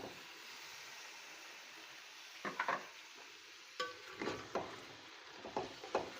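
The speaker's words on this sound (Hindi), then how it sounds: "अच्छी तरीके से मैं इसको इसमें भूनूंगी।" Half a kilo of beef browning in a pot with black pepper, a soft background sizzle broken by several clattering stir scrapes of a spoon against the pot, faint and close.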